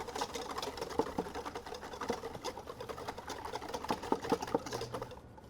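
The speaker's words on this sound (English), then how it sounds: "We'll go ahead and just get these eggs whisked up so that they work into the cream." Eggs being whisked in a large bowl for bread pudding, a steady run of quick, close clicking strokes with no talking.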